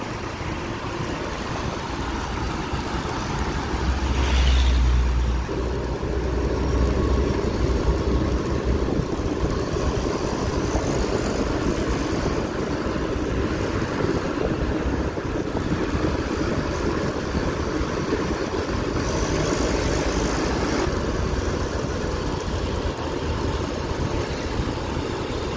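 Intercity bus engine droning steadily at night while closing on and overtaking other buses, a continuous low rumble close by, swelling slightly around the middle, with no talk over it.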